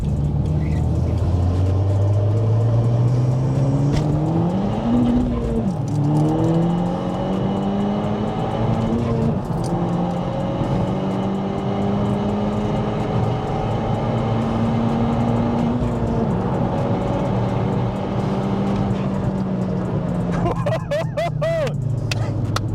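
A tuned SEAT Leon Cupra K1 engine, about 406 bhp with a stock K04 turbo, revs and climbs steadily in pitch as it accelerates, loud and close throughout, with voices talking over it.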